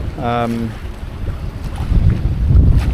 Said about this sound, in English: So that wind has definitely picked up, there's no doubt about it.